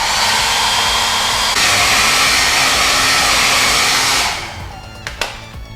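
A handheld blow dryer drying Plasti Dip on car wheels blows as a loud, steady whooshing hum, briefly stepping up in intensity, then switches off and winds down, followed by a few faint handling clicks.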